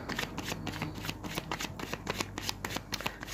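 Cards are riffled and shuffled in quick, crisp bursts of rapid flutter, close and fairly quiet, with no talking.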